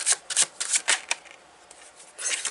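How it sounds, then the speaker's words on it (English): Tarot cards shuffled by hand in a quiet room, a series of quick papery riffles and slaps in bursts, close and crisp, with a lull before a final flurry. "Let's pick some more tarot cards."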